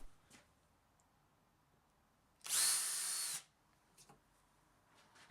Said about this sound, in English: I'm going to pre-drill the hole just to make sure I don't snap the screw off.